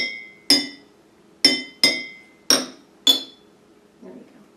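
Glass bottles holding different amounts of water struck one at a time, six bright ringing clinks at uneven intervals, each decaying quickly, close and clear, followed by a soft duller tap.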